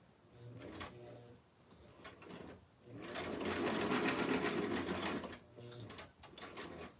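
A hand-crank sewing machine stitches a small Barbie doll dress, its needle clattering in short rhythmic bursts that build into a steady, louder whirring run in the middle before slowing again, close and fairly quiet with no talking.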